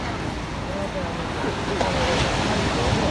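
Mediterranean sea waves wash ashore at Benidorm in Spain, a constant roaring surf with wind buffeting the microphone, loud and unbroken, with faint voices in the background.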